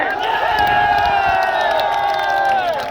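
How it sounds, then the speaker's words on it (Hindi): Large outdoor crowd at an Aam Aadmi Party tricolour rally in Rajasthan cheering and applauding for the media, a loud continuous roar with whoops and shouts throughout. "मैं तालियां चाहूंगा ये वाले मीडिया के लिए"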